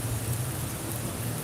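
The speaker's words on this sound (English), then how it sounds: "We got your rain for you, bro." Rain falls steadily outdoors in a brief, dense, even hiss with a low rumbling undertone, continuous and unbroken, without any talking.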